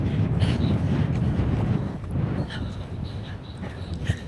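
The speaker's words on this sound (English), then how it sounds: "Oh, it's definitely windy up here now." Strong wind buffets the microphone on a mountain trail at Mt. Hamell, a loud continuous low rumble with gusty swells throughout and no one talking.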